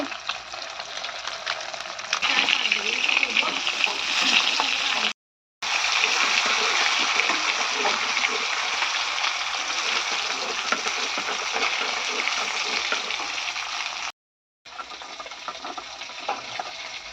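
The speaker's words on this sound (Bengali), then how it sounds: "তো এই যে মাছ এখন ভাজা হচ্ছে" Turmeric-coated rohu fish frying in hot oil, a dense continuous sizzle and spatter broken by two brief silent gaps.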